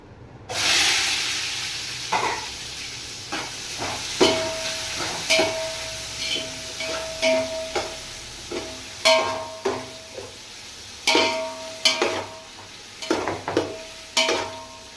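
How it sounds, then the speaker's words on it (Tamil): Five medium onions fry in a pot for roasted biryani with a steady hissing sizzle. A spoon scrapes through them in regular, fairly loud strokes about once a second. "இப்போ நம்ம 5 மீடியம் வெங்காயம் கட் பண்ணி வச்சுக்கோங்க, அதை சேர்த்துடலாம்."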